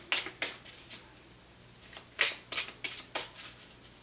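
Tarot cards shuffled and drawn by hand, a series of sharp riffling bursts and flicks in irregular clusters, close up and with no voices.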